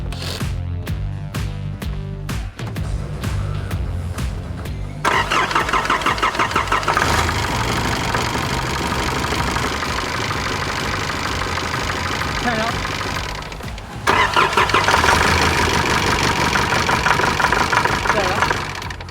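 A cold 4WD diesel with a faulty injector cranks with rhythmic starter chugs, then catches and runs in a loud, rough, knocking idle, revving up briefly near the end, close by.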